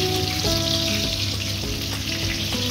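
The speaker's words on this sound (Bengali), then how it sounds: "সুন্দর করে ধীরে ধীরে ভাজতে হবে, অল্প আঁচেতে ভালো করে এইভাবে ভেজে নিতে হবে।" Bhetki fish fingers frying slowly in oil over low heat make a dense, even, close-up sizzle that carries on steadily with faint bubbling and no voices.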